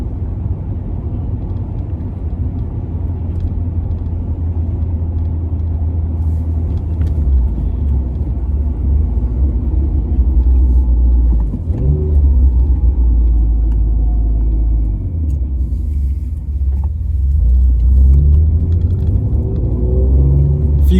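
An Alfa Romeo 156 with a 2.5 litre V6 produces a steady, deep idle rumble close by, swelling briefly twice as the revs lift and then settle.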